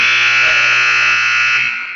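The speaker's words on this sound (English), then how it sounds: "There's the buzzer." A loud, sustained electronic buzzer ending a period of a wrestling dual meet blares continuously for about two seconds, harsh and close, then begins to fade.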